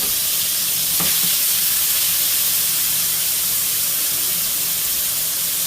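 Shrimp sizzle in a hot skillet for a shrimp and pasta stir fry, giving a steady, loud broadband hiss that runs the whole time, with a brief clatter near the start.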